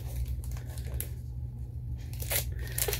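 A Marvel Masterpiece trading card pack is ripped open by hand, with papery tearing and crinkling bursts that sharpen toward the end, close and moderately quiet over a low steady hum.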